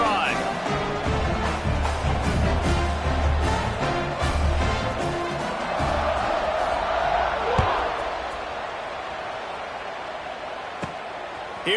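A college football stadium crowd at BYU versus Arizona roars with a steady, dense wash of cheering during a kickoff, while a play-by-play announcer talks over it.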